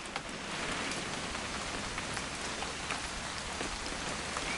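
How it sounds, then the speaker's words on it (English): Steady rain falling in the video game What Remains of Edith Finch, a continuous dense hiss of drops close around, heard alone with no talking. "It's gonna rain the whole weekend,"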